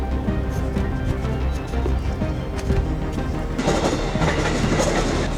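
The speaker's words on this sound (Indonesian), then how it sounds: "Suara getaran dan gemuruh kereta komuter lain juga seolah terus menyatu dengan keseharian warga Jalan Tongkol." A commuter train rumbles past on nearby rails beside homes along Jalan Tongkol in Jakarta, a steady close roar with rhythmic wheel clatter that swells louder toward the end.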